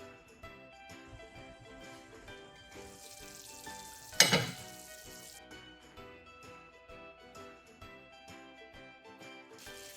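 Fried chicken biryani cooking on a low flame, a soft steady bubbling and faint sizzle with light clinks, plus one louder burst of hissing partway through, quiet and close.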